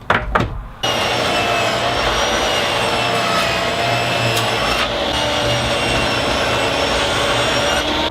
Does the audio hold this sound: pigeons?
no